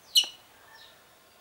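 A single sharp chirp from a red-rumped parrot (Psephotus haematonotus), followed by a fainter, thinner call, in an otherwise quiet setting.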